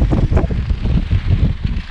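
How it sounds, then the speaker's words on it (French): Strong wind buffeting across a mountain ridge on the Continental Divide Trail, a loud gusty roar with microphone rumble that swells and dips throughout. "Le vent devrait être moins fort."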